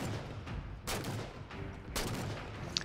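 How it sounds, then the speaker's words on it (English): Three or four sniper rifle shots in Halo Spartan Ops crack out at spaced intervals over a steady background of game ambience, each one a sharp, moderately loud burst. "Four shots, I believe, with the sniper rifle for a golden elite."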